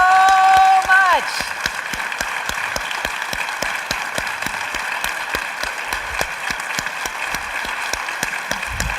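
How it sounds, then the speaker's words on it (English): An audience at the iNACOL 2013 Symposium applauds the student plenary panel, loud, sharp claps landing in an even, rhythmic pattern, with a brief voice or tone heard at the very start. "Give a huge round of applause to our student panel"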